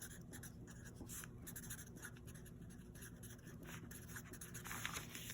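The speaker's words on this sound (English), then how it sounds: "So you're gonna write your name on top." Faint, close pencil or pen scratching as a name is written on paper, with short uneven strokes over a quiet room.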